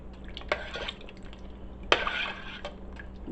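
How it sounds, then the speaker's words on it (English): Organic coconut milk is poured into a pot of Belizean crab stew, giving two short, soft liquid splashes and faint pot clinks close by, with no talk during the pour. "she's pouring the coconut milk in"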